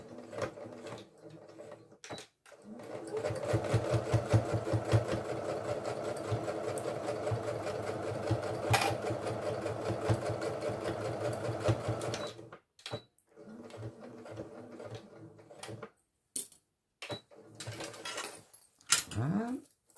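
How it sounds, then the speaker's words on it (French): A sewing machine topstitches along each side of a zipper on a fabric belt bag, running steadily and close for about ten seconds, then stopping and restarting in short bursts amid small handling noises. "on va faire des surpiqûres de chaque côté de la fermeture éclair"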